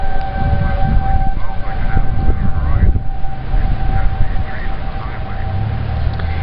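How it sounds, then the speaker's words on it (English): Outdoor civil defense tornado warning sirens in Lincoln, Nebraska, a steady sustained tone wailing across the area over wind and background noise. "they're sounding the sirens again."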